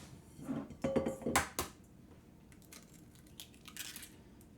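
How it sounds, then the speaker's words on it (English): Eggs cracked into a container: a cluster of close, sharp taps and cracking knocks, then a few lighter clinks and shell rattles fading into quiet background, with no voices. "And I'm going to crack my eggs."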